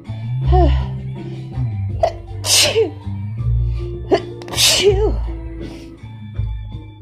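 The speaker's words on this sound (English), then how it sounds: "Oh, fucking sneezing fits." A person with a cold and allergies lets out several strong, explosive sneezes in a fit, each preceded by sharp gasping breaths, close and loud with muttered voice between them.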